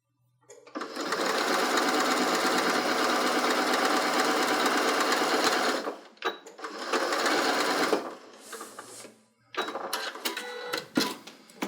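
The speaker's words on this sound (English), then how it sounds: "You're going to sew 1/4 inch in. Go ahead and back stitch on that too." Close, loud sewing machine stitching a quarter-inch seam on fabric, one long steady run followed by shorter bursts with gaps as it back stitches, no talking.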